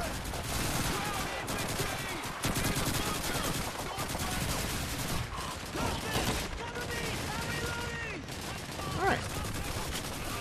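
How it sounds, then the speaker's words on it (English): Dense gunfire fills a Call of Duty 2 battle, with rapid machine-gun bursts and rifle shots crackling continuously and loudly throughout, mixed with explosions and faint voices in the background. "Still kind of a lot of gunfire going on"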